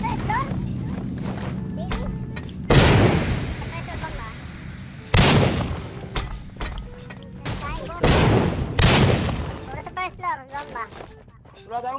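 Bomb explosions in the battle royale game Rules of Survival boom loudly in several bursts, with gunfire crackling between blasts as people talk over them.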